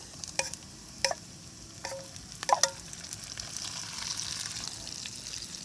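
Meat fries with soy sauce in a small kawali at a campsite, giving a soft, steady sizzle broken by several sharp utensil clinks and taps near the start.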